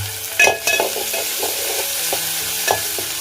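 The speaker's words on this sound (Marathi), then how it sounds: "कांदा लाल झालेला आहे त्याच्यामध्ये आता टोमॅटो मी टाकलेला आहे" Onion and tomato frying in a pan for a spicy prawn gravy, with steady sizzling and several clattering stirs of a utensil against the pan, close and fairly loud.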